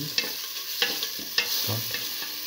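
Two red chilies sizzle in a pan while cooking scrambled egg split pigeon pea rice, a constant crackling hiss punctuated by a few sharp taps and scrapes of stirring, close and alone.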